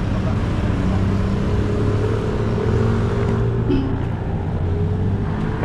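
A car approaches on a road, its engine a steady rumbling drone that holds fairly loud and close throughout, with some faint background noise and a brief higher sound partway through.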